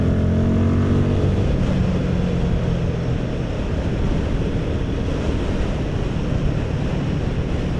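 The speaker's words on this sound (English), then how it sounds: "Can you hear how windy it is?" Strong wind roars and buffets steadily at the microphone while riding a Royal Enfield Guerrilla 450 motorcycle, a constant loud rush with a low rumbling hum beneath it.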